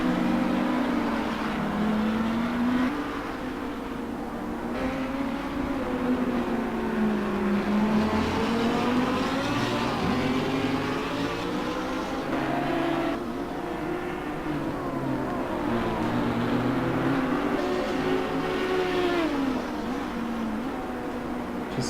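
Race cars roar around the Brands Hatch circuit in the Assetto Corsa racing game, engines droning and shifting pitch continuously as they accelerate, loud and steady throughout with no pauses.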